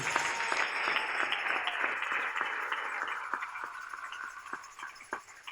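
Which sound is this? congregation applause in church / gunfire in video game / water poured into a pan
congregation applause in church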